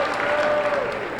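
Audience applause for a gymnast at an awards presentation during a Temple versus North Carolina gymnastics meet: a dense, steady wash of clapping that holds evenly throughout a short burst.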